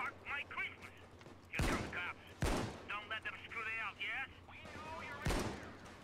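Gunfire in the heist shooter Payday 2, several sharp loud shots at intervals amid game effects, with a player talking in between.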